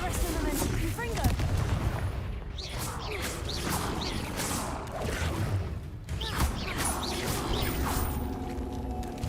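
Confringo blasting spell fired repeatedly in Hogwarts Legacy: a dense barrage of sharp explosive bursts and crackling impacts in steady succession, loud and busy, mixed with other spell effects and a voice talking over the top.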